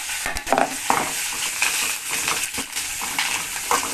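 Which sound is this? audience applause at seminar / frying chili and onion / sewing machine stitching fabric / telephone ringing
frying chili and onion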